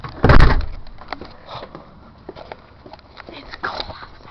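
A door swings shut with a loud thud near the start, followed by faint shuffling, light footsteps and small knocks close by.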